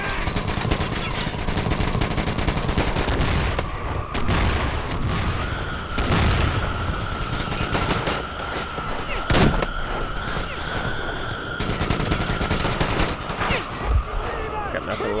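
Sniper rifle and other gunfire in the video game Metro Exodus: sharp cracks and rattling bursts over a dense battle din, with one standout shot near the end and game voices mixed in.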